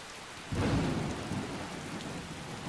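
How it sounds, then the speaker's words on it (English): Steady video game rain hisses throughout under a cloudy, foggy sky while a low rumble of thunder rolls in after a moment and slowly fades, no voices present. "This is cloudy sky with fog and a medium rain."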